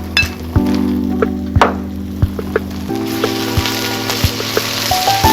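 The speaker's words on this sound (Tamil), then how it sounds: "இஞ்சி பூண்டு நல்லா ஃப்ரை ஆகிட்டு இருக்கு." Ginger garlic paste fries with onions in a pan for Chettinad fish curry, a soft sizzle broken by several sharp clinks and taps of a utensil against the pan, heard close with no talking.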